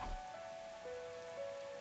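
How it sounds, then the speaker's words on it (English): Heavy rain patters steadily on rooftops in a video game scene, a soft, even hiss of falling drops with faint tonal background music running alongside. "Raindrops were pelting the rooftops all around me, producing a relentless rhythmic beat."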